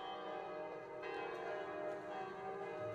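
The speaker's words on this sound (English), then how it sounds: "Then we have the bells." Church bells ring out in a dense, sustained wash of overlapping tones, steady and fairly loud throughout with no voices.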